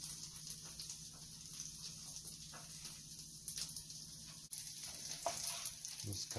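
Bite-sized chunks of wild hog meat seasoned with Everglades seasoning sizzle steadily in a pan with olive oil and butter, a continuous crackling hiss with small pops, moderately close and without talk.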